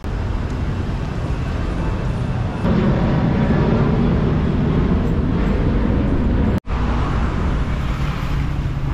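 Busy street traffic in Chiang Mai, a loud continuous rumble of engines and road noise with a swell as vehicles pass close, broken by a sudden momentary dropout near the end.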